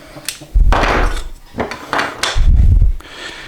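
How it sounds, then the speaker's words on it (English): A brad point drill bit is tapped gently against a wooden guitar headstock veneer to mark 8mm tuner hole locations, giving a few close, dull wooden knocks and rubbing bumps with no talk. "take this brad point bit, give it a gentle tap"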